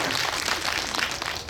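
Film screening audience at a Dongju special screening and talk in a Megabox Coex cinema hall, a dense, sustained wash of many hands clapping at close range, steady throughout the short burst.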